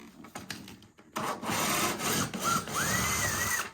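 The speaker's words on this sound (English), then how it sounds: "Right, so I've got my drill." A power drill whirs into wood, a rough grinding buzz that starts after a second of light handling noise and keeps going, close and loud, with rising whine at the end.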